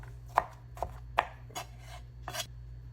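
Knife chopping pickles finely on a cutting board for an imitation crab salad, five or six crisp, separate cuts in an uneven rhythm, close and clear over a low background hum, with no talking.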